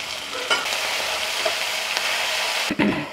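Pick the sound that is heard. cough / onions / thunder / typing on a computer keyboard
onions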